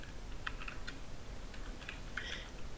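Typing on a computer keyboard while entering text in a PDF editor: a few quick bursts of soft key clicks in irregular rhythm, close and fairly quiet, with no talking.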